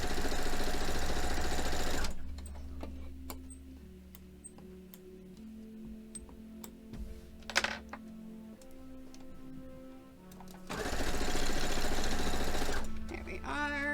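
A sewing machine stitching a quilt block, loud steady motor hum at the start and again near the end, with quieter ticking and faint clicks in between and no talking.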